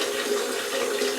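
Hot water running steadily from a tap fed by a recirculating hot water pump, a constant close hiss of flowing water with no talk.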